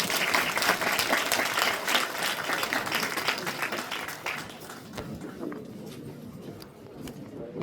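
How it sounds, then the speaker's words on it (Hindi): A crowd at a school science exhibition prize ceremony claps loudly and steadily for a student winner, then the applause thins and tapers off, with voices faintly underneath. "आदर्श के लिए जोरदार तालियां हो जाए।"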